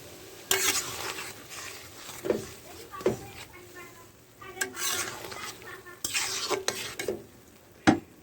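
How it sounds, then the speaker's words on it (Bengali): Raw banana and taro boil in a pot while a spoon stirs them, with irregular scrapes and knocks against the metal rising over a low bubbling background. "এবার আমি নেড়ে চেড়ে জলটা ফেলে দেবো।"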